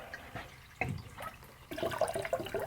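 Water splashes as coolant mix is poured into a new radiator on a 1977 Pontiac Trans Am, with faint trickles followed by a busier burst of close, irregular splashing.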